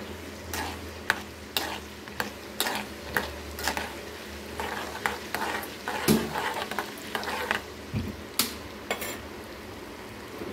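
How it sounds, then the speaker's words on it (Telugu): Tempering seeds and peanuts fry in hot groundnut oil for tamarind rice, a continuous close sizzle punctuated by frequent metallic scrapes and taps of a spoon stirring the pan, loud and uninterrupted by voices. "తాలింపు వేగితేనే రుచి పులిహోరకి."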